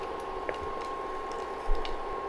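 Star anise and black pepper sizzle in hot ghee and oil in a pan, giving a steady, quiet frying hiss with a few small pops and spits close by.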